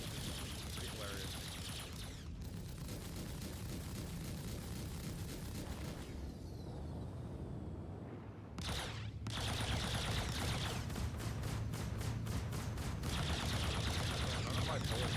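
Video game gunfire rattles in rapid bursts throughout, with a brief lull before dense automatic fire returns, loud and continuous, with talk mixed under it.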